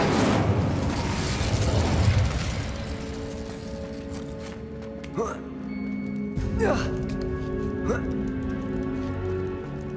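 A fire spell is cast in the wizarding game Hogwarts Legacy. A loud, broad burst of flame erupts at the start and fades into a crackling rumble, followed by quieter magical chimes and game sounds.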